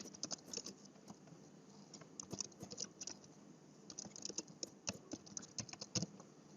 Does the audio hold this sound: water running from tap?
no